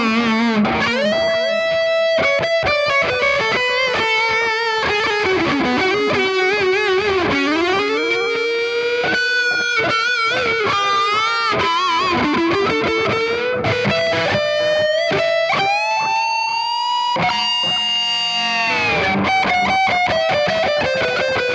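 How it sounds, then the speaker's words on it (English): A distorted electric guitar runs through an MXR Carbon Copy analog delay pedal, sustained bending notes and chords trailing repeating echoes, loud and continuous with no talk. "MXR carbon copy. It's an analog delay."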